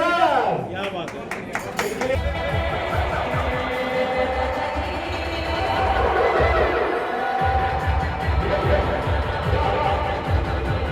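An audience claps and cheers for a winner at a production company's launch event. Dense crowd noise and hubbub run throughout, mixed under loud talk and background music.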